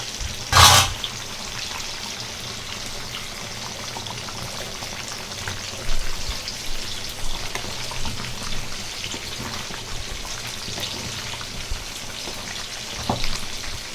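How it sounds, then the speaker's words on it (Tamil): A radish and chicken kurma bubbling in a pot, with a soft, continuous bubbling and popping simmer and one sharp clatter near the start, with no talk over it. "குழம்பு நல்லா கொதிச்சிடுச்சு"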